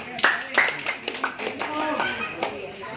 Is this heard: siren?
no